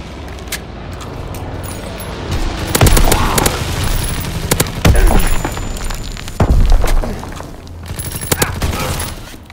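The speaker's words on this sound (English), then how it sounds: "Anti-aircraft bursts commenced." Heavy anti-aircraft bursts in a Call of Duty WWII match, booming in a steady barrage with three louder thumping peaks over continuous crackling gunfire and rumble.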